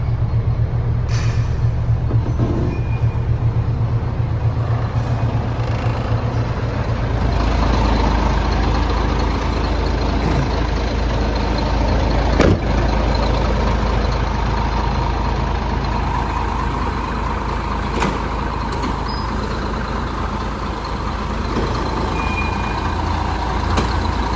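A 2011 Hino FM320 6x4 tractor head truck engine runs at a steady idle, a continuous low diesel rumble with a constant broadband hum that holds unchanged throughout, with no talking.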